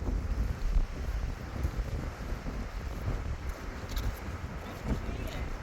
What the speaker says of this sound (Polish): Tu akurat troszkę wieje